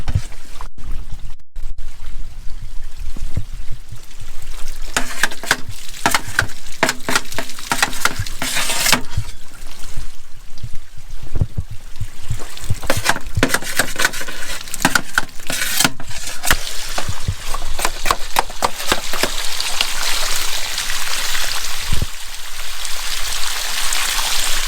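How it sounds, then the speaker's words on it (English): Water trickles and splashes from a newly set irrigation pipe on a farm row, a steady broadband rush of running water with scattered drips and pours throughout, no talking. "you can kind of see we got a little trickle going here"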